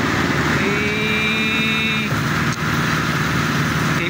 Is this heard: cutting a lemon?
no